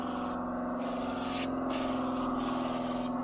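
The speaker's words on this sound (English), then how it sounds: "That's a bad leak, man. That's pissing out air." Compressed air hissing out of a leaking shock absorber, a continuous harsh spray of air close by that pulses slightly in strength, with no talking.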